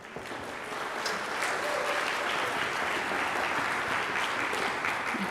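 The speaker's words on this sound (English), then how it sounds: "Can we have a round of applause for our freshmen?" A high school fall festival audience applauds freshmen orchestra students, a broad, sustained wash of clapping from a large crowd that swells after the first second and holds steady.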